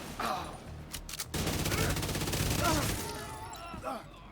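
Video-game gunfire crackles in a dense, sustained burst, with brief sharp shots early and a long loud stretch of rapid fire, while a voice talks over it.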